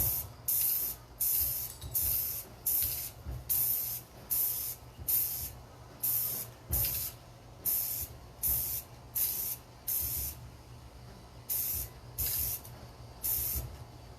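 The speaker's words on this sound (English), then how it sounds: "See, I didn't spray paint the bottom yet." A spray paint can hisses in a steady series of short bursts, about two per second, coating a cup with brief pauses between sprays and no talking.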